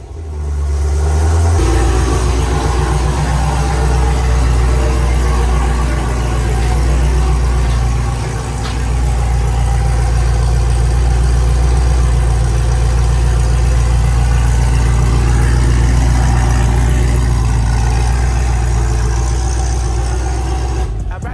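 A 600+ wheel-horsepower Camaro's engine rumbles loud and close at a heavy idle, swelling with occasional revs and holding a deep steady drone throughout.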